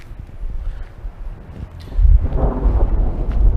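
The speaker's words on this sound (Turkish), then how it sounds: "Gökte gürlüyor acayip." Deep thunder rumbles low and rolling, swelling noticeably louder partway through, with some wind-like noise.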